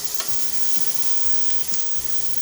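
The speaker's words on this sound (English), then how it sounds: "we're going to stir those in with our seeds" Seeds tempering in a hot pan of oil for a Thai green curry made from scratch. A loud, constant crackling sizzle is broken by a few rhythmic scrapes of stirring.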